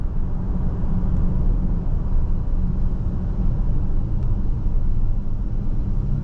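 The 4-cylinder turbo engine of a 2027 Infiniti QX65 hums under steady road rumble while driving, a constant low drone heard from inside the cabin with no talking.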